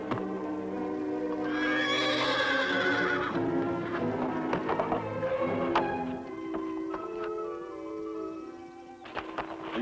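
A horse named Fury whinnies loudly and at length near the start, followed by shorter snorts and scattered hoof taps, with no talking.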